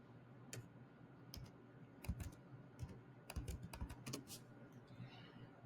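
Clicks from a computer keyboard as a date is typed into a form, coming in short uneven bursts of light taps, quiet and close with no voices.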